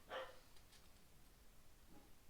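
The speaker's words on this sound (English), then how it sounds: "I think you'll be able to hear my dog barking" A single short dog bark, faint and somewhat distant, in a quiet room, followed by near silence.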